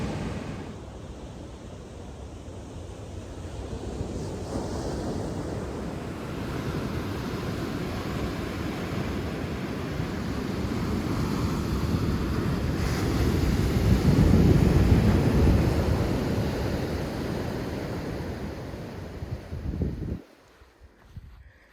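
Ocean surf on the rocky Vancouver Island coast along the Juan de Fuca trail, a steady broad wash of waves that swells louder toward the middle, with some wind, then drops off abruptly near the end.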